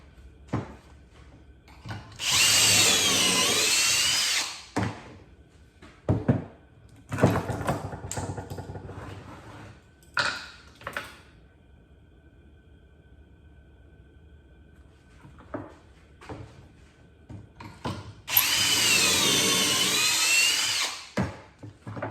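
A power drill drives pocket screws into wooden boards for a wrap-around fireplace mantel, in three loud, sustained whirring bursts with quieter handling knocks and shuffling between them.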